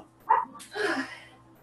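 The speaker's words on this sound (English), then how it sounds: "The dogs." Dogs in a home bark: one short, sharp bark and then a longer, muffled bark or yowl a moment later, fairly close, with a low steady hum underneath.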